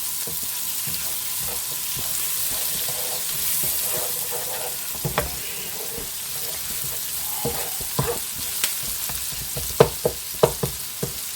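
Onions, garlic and shallots sizzle steadily in a hot frying pan, with a continuous close crackle and a few sharper pops and stirring clicks toward the end.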